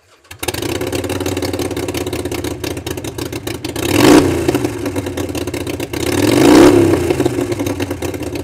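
A 2016 Harley-Davidson XL883N Sportster 883 Iron with a Vance & Hines exhaust and open air intake idles loudly and close, with a steady rumble broken by two throttle blips that swell and fall back.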